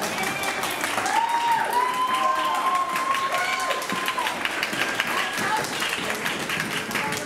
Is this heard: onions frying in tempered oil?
no